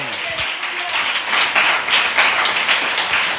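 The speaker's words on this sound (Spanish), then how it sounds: "Dele otro aplauso al Señor" A church congregation applauds during a Spanish-language service, dense sustained clapping from many hands, loud and continuous, with a brief voice at the start.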